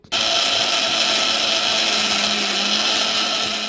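A kitchen mixer grinder whirs loudly and steadily, starting abruptly and running without pause as it grinds coriander, mint, garlic, ginger and green chili into a paste.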